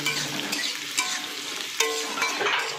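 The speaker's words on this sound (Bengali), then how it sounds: "এবারে ফোড়নের উপরে পেঁয়াজ কুচনো দিয়ে দিলাম।" Chopped onions dropped onto tempered spices in hot oil, sizzling steadily while a spatula scrapes and stirs in a few sharp strokes, close up with no voices.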